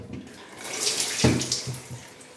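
Water runs and splashes off a tilted Upolana shower bench, a close, steady faucet-like flow that builds to a louder gush midway, then tapers with a few trailing splashes.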